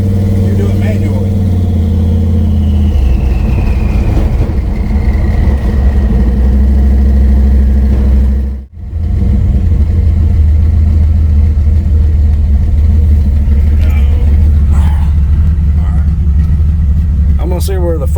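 A Chevy C20 truck's engine accelerates hard under load, a steady loud mid-range drone with a brief drop as it shifts, then resumes pulling; someone talks over the engine throughout.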